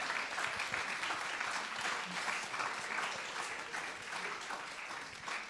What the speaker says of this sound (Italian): Qui ci sta l'applauso.